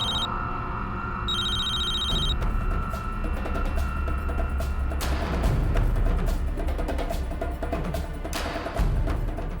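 A telephone rings repeatedly in an indoor television drama scene: an electronic ringtone chirps at the start, then gives way to a busy wash of clattering and rustling noise that continues to the end.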